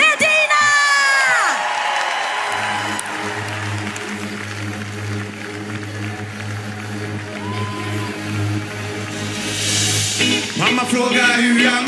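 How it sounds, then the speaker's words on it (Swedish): Outdoor concert audience at Allsång på Skansen cheering, whooping and applauding in a loud sustained swell, with a host speaking at the start and music beginning underneath. "Ge en stor applåd, för nu blir det party!"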